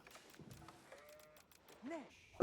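Sheep bleat in Age of Empires 4 during a Byzantine game on a water map, a short wavering call near the end over quiet game sounds and faint background talk.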